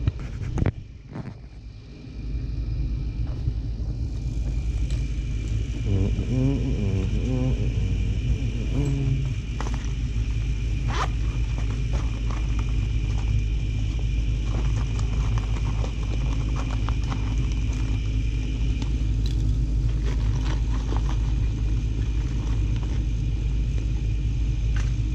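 A 2003 home furnace burner ignites after its igniter warms up, then settles into a steady, loud roar with a low rumble and a faint tonal hum, continuing close by for the rest of the clip.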